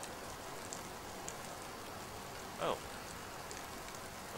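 Steady rain patters in a foggy Mount & Blade battle, a constant soft hiss filling the background, with a brief spoken exclamation partway through.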